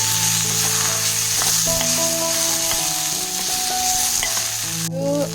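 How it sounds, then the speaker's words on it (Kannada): Two tomatoes frying in a pan with onion for paddu chutney, a loud steady sizzle that runs unbroken throughout, with no voices. "ಟೊಮೊಟೊ ಹಾಕ್ಕೊಂಡು ಒಂದು ಸ್ವಲ್ಪ ಹಿಂಗೆ ಫ್ರೈ ಮಾಡ್ತೀವಿ."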